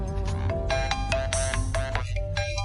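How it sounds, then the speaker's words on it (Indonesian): A telephone ringtone plays loud and close, a repeating electronic melody with bright, tonal bursts and no talk over it. "Telepon."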